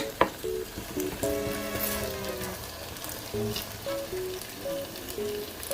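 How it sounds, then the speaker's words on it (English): Potatoes fry in a pan with a continuous close crackling sizzle and occasional sharp pops, while faint steady tones sit in the background. "You just fry them for 2 minutes, and then we put the salsa in there"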